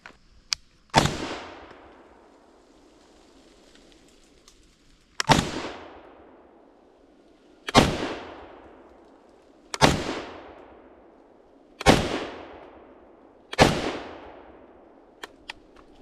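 Six loud, close single shots from an IWI Tavor 7 bullpup rifle in 7.62x51mm NATO, fired at an outdoor range at slow, even intervals of about two seconds, each crack ringing out with a long echoing decay.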